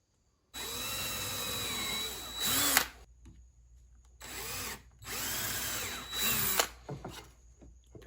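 Power drill boring holes into thick wooden boards for a homemade beach chair, two long steady drilling bursts with the motor pitch rising as each bit breaks through, close and loud with short pauses between.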